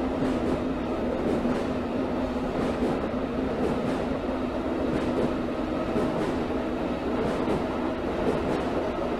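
Old numbered subway train cars run along a Moscow metro line in Subway Simulator, a loud continuous rumble with rhythmic clickety-clack of wheels over rail joints and a faint steady whine, heard alone.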